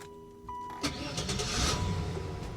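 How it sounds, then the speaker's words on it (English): Mercedes car engine cranking and catching, then settling into a steady running rumble, loud and close with no talking. "we'll fire it up again. Listen to this."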